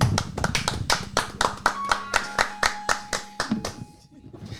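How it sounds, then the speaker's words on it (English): Podcast hosts clap their hands together in celebration of Spain's World Cup win, about fifteen crisp, evenly paced claps that fade out over a faint sustained tone. "Everybody, hands together. Let's go and give it a clap."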